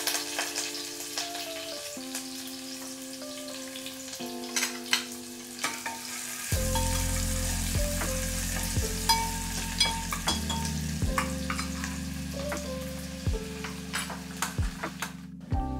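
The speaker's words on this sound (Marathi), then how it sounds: "कुळथाच्या आमटीसाठी तेलात टाकायचं लसूण आणि कढीपत्ता. छान तडतडला की त्यामध्ये कांदा परतून घ्यायचा आहे." Garlic and curry leaves fry in hot oil for a horse gram curry, a steady close sizzle and crackle that runs throughout with occasional stirring ticks and soft music underneath.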